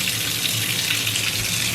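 Tap water runs steadily into a sink in an Alaskan home, a constant close splashing rush with no talking.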